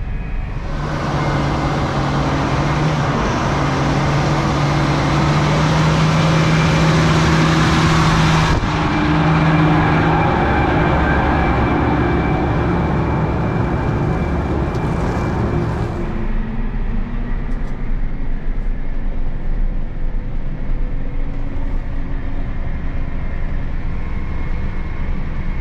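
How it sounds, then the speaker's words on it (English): A Versatile 405 tractor rumbles steadily at close range, a continuous heavy engine drone that holds level, then drops to a quieter, duller hum partway through. "I'm gonna move this versatile 405 and this high-speed Fury disc over to the other parking lot"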